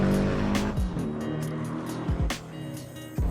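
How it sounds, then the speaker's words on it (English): A 2016 Porsche 718 Boxster S driven in the Assetto Corsa racing game, engine revving and shifting with sharp tire squeals, a few quick downshift blips and loud close-up throttle bursts. "today I'm in a 2016 Porsche 718 Boxster S"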